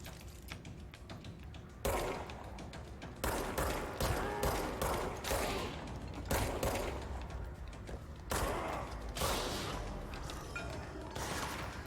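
Rapid gunfire exchange in the video game Control, loud bursts and volleys of shots repeating across the whole stretch with short lulls between, dense and close.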